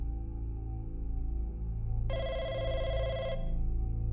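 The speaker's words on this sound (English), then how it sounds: "Phone call from the supermarket." Telephone ringing in the video game Firework, set in a remote Chinese village: a bright electronic ring bursts in partway through over a low droning background and holds for about a second, with no speech.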